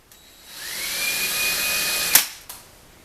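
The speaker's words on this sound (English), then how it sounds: "Very gently, especially with this tiny drill bit, I'm going to go backwards." A small power drill with a tiny bit runs in reverse while making pilot holes on a 1989 Acura Integra, a steady whine of about two seconds ending in a sharp catch, then one brief click, close and alone.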